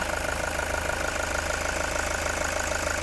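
A Toyota Commuter 3.0 D4D diesel van engine idles with a low, even rumble and a faint knocking texture, continuous and fairly close with no talking.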